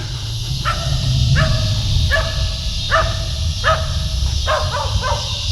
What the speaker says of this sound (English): So there's a dog over there that wants to meet me, apparently.